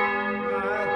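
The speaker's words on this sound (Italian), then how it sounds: "Quanto sono belle le campane del paese, eh?" Village church bells ring in a rich, sustained metallic peal with strong overlapping tones, a brief burst heard alone without talk.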